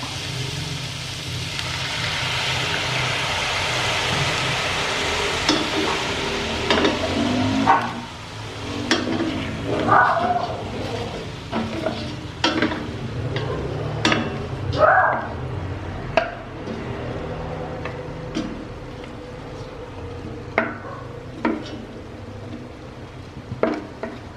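Meat sautés in a pan with a splash of soy sauce: a constant sizzle carries underneath while irregular clacks and scrapes of stirring come louder and more often as it goes on.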